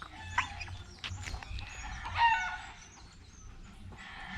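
A farm fowl calls and clucks several times at moderate distance over steady outdoor background noise, with no talk.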